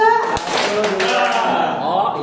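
Hand clapping from a teacher-led group exercise in counted claps, a few sharp claps over talk and voices that continue through the short stretch.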